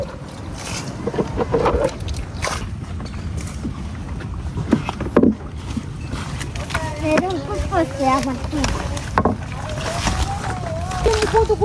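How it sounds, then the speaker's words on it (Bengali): A small village boat crosses a wetland, its hull creaking and water lapping and splashing at close range, while people talk over it. "নৌকা দিয়া হাওর বিল পার হয়ে আসি"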